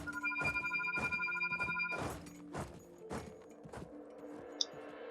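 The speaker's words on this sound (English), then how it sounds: "Phone's going off." A telephone rings with a bright repeating trill, then gives way to a series of evenly spaced dull thumps close by, with a faint click near the end.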